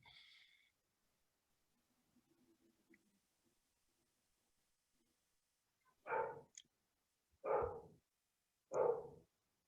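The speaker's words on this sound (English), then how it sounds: "That sound in the background is a 80-pound puppy." Three loud, deep barks from an 80-pound puppy, spaced about a second and a half apart, after a quiet stretch with faint clicks and low room noise, in a home setting during a remote council meeting.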